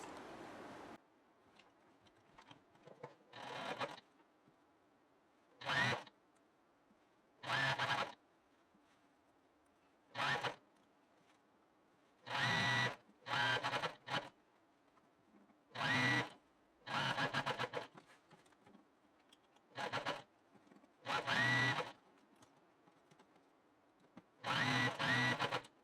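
A sewing machine stitches the side and sleeve seam of a raglan-sleeve top, buzzing in short separate bursts of one to two seconds with quiet pauses between them, close and clear, with no talking.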